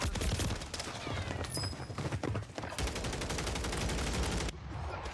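Rapid bursts of video game gunfire from akimbo Stinger guns crackle in quick succession, dense, sharp shots that pause briefly and then resume, loud and close.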